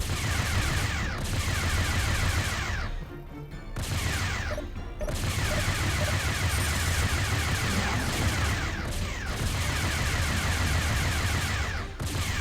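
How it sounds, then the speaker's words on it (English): Heavy cannon fire from a space combat game as Maxim cannons pound enemy turrets, a dense, continuous barrage of rapid booming shots with short lulls, loud and close. "so that I can do precision aiming and actually hit those turrets with my Maxim cannons"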